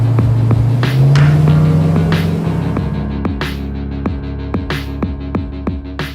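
A 1970 Dodge Charger R/T muscle car engine rumbles loudly and close, with a deep steady throb that swells then settles into a lumpy idle with regular sharp pulses.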